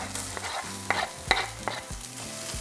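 A small piece of onion sizzles in hot oil in a pan over medium-high heat, a steady frying hiss broken by a few sharp stirring scrapes, close and fairly quiet.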